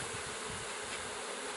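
Honeybees at an open hive being given a puff of smoke make a dense, steady, close buzzing that fills the air, with no talking.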